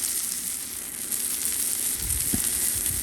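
Ribeye steak sizzling on a Blackstone griddle, a steady bright hiss of frying fat with a soft low clatter near the end, no voices.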